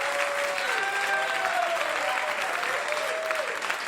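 A comedy club audience applauds steadily and loudly at a live stand-up show, with dense clapping throughout and a few voices and whoops mixed in.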